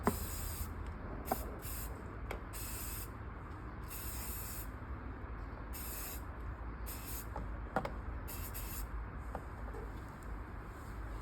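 Selsil cleaner sprayed from an aerosol can onto a microfiber cloth in a series of short, close hissing bursts of varying length, separated by brief pauses over a low steady background; no one speaks.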